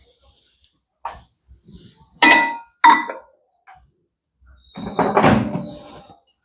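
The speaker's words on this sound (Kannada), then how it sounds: "ಈಗ ಇದನ್ನ ಮೈಕ್ರೋವೇವ್ ಸ್ಟಾರ್ಟ್ ಮಾಡೀನಿ. 5 ನಿಮಿಷ ಸೆಟ್ ಮಾಡ್ತೀನಿ." A microwave oven door clanks shut with a glassy clink, followed by a few short taps and a beep-like tone as the timer is set for five minutes, close and clear in a quiet kitchen.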